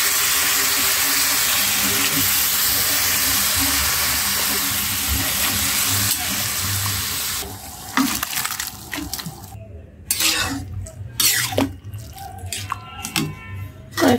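A pot of bottle gourd boils on the stove, first giving off a smooth, continuous steam hiss, then breaking into uneven clattering, bubbling and dripping sounds in the final seconds.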